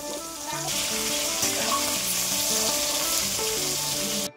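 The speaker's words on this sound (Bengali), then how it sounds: "ফার্স্টে আলুটা ডুমো ডুমো করে ভেজে নেওয়া হচ্ছে।" Diced potatoes frying in a pan for a Bengali potato curry, a steady, close sizzle and crackle throughout, with occasional stirring clatter and no talk.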